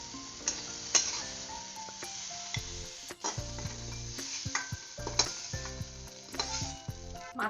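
Eggplant pieces frying in a little oil in a kadai give a soft, close sizzle broken by scraping and clinking of a spatula against the pan, with no one talking.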